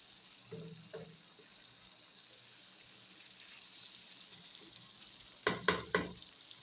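Egg masala with fresh coriander cooks in a pan with a low, steady sizzle, broken by a couple of soft stirring knocks early and three sharper scraping clatters near the end.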